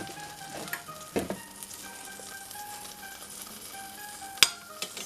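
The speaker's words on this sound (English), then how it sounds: "So butter, I add a little bit more." Butter sizzling and frying in a pan on a new induction stove, a faint steady crackle with scattered clinks and taps of utensils against the pan.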